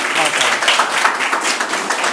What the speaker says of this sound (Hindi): जोरदार तालियां बेटा